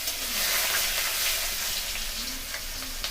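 Chopped medium onion hitting hot oil with black cumin tempering, a loud, steady sizzle and fry that continues close up with no voices.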